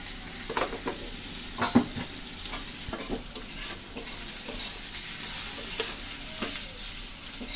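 Sliced onions with turmeric and salt fry in a pan with a steady sizzle, while a spoon scrapes and clinks against the metal in irregular strokes, close and clear with no talking.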